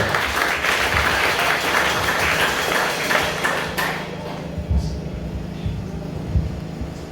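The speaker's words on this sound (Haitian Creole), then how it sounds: "Sous vos applaudissements, mes frères et sœurs" A church congregation at an annual conference applauds a pastor, loud and dense at first, then thinning into scattered claps and knocks as it dies away.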